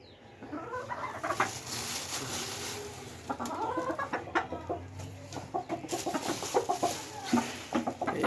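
Several chickens cluck and murmur nearby in short, irregular bursts as they are fed coffee plant stalks, with a faint steady hum in the background and no talking.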